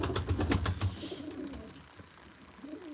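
Young pigeons cooing at a live pigeon auction, a few soft close coos with rustling and clicks early on, then quieter background noise.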